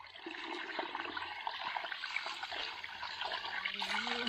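Steady rushing and splashing of water draining out of a natural spring box, continuous and fairly close, with a low gurgle near the end.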